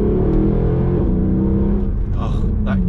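A Mercedes C63 AMG engine surges under kick-down acceleration, a loud, steady low rumble and roar heard from inside the car, building through the clip.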